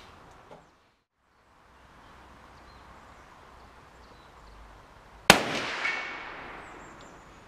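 A single 7.5x55 rifle shot fired with reduced-load ammunition cracks sharply and loud partway through, then rolls off in a fading echo over faint outdoor background noise.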